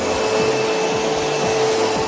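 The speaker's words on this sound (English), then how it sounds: "Mr. Trump, I'm going to need you to vacuum" A vacuum cleaner runs steadily and loudly throughout, with a constant whine and broadband roar and a few faint low bumps as the nozzle moves.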